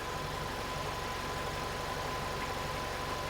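A VW MK7.5 Golf R engine idles steadily with a low, even rumble and faint background hum, close by and alone throughout.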